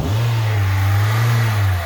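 A four-cylinder car engine with its intake restriction removed revs up close and loud, a steady low growl held for under two seconds with no talking.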